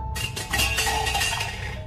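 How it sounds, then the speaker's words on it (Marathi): Metal kitchen utensils clatter and clink as they fall, a short burst of ringing, jangling impacts that trail off, heard alone as a ghost-story sound effect. "तो स्वयंपाकघरातून भांडी पडल्याचा आवाज आला."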